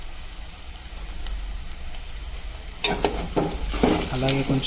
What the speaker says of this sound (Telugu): ఆలుగడ్డ కూడా ఆయిల్లో బాగా వేగించుకోవాలి.